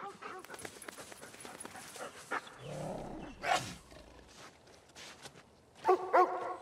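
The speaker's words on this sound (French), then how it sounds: "qu'est-ce que t'as aboyé comme ça?" A dog barks a few times, with sharp yelps near the end, amid background commotion and a low rumbling noise.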